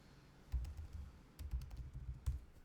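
Someone types code on a computer keyboard, with soft, close key clicks arriving in two quick bursts separated by a brief pause.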